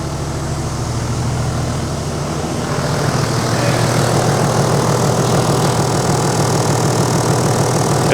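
A diesel car engine runs steadily with its intercooler disconnected, a loud, continuous low drone close by that swells and roughens after a few seconds as it is revved, with no talk over it.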